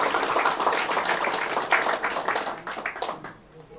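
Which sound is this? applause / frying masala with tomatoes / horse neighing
applause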